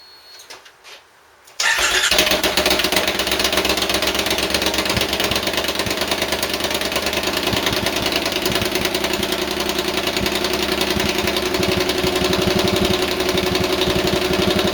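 A Triumph Scrambler motorcycle on open pipes starts after a brief quiet moment and settles into a loud, steady, throbbing idle that continues close and unbroken.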